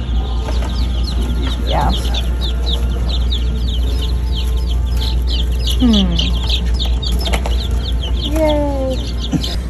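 Baby chicks peep in a store, with repeated high chirps over a steady low background hum, and a person briefly speaks.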